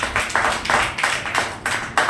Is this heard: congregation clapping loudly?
yes